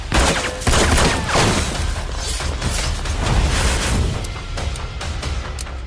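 Rapid volleys of gunshots in a crime action film, dense overlapping bursts with booming impacts and crashing debris, loud and continuous for several seconds with no pauses.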